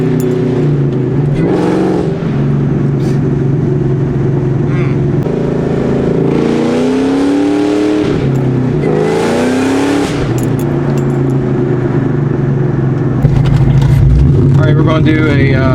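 A Ford Mustang GT with BBK long tube headers, an off-road H-pipe and Borla Atak exhaust revs loudly with its tires spinning in third gear, its engine note climbing and falling in repeated sweeps while voices talk over it.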